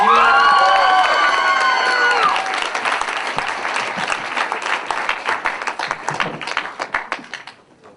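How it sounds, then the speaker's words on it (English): College comedy competition audience welcoming a comedian to the stage with loud applause and cheering, at first blended with music, then thinning into crisp scattered claps that taper away. "Coming to the stage, please give a warm round of applause to Max Lasser."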